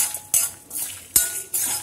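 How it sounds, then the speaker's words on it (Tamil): Toor dal roasting dry in a pan with pepper and chili, heard as a few sharp scraping stirs and clinks of a spoon against the pan at a steady rhythm, close and moderately loud. "இப்போ இதை வந்து நம்ம நல்லா வறுத்துடலாம்."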